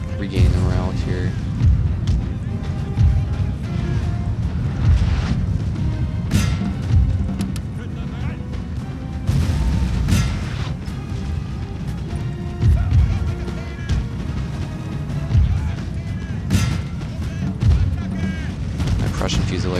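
Artillery and musket fire in 1805 European Campaign, a Napoleonic battle game with Prussian units, come as repeated heavy booms and crackling volleys that carry on steadily under continuous talk.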